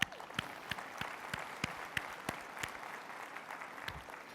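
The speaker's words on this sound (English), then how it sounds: "Please give them a round of applause" Faint, distant audience applause in a large convention hall at a Subway gathering, a thin crowd wash with distinct nearer claps at a steady beat.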